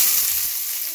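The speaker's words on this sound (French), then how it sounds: "Là, on va mettre les oignons." Onions frying in a pot: a bright, steady hiss of sizzling, close and fairly loud, easing slightly toward the end, with no talking over it.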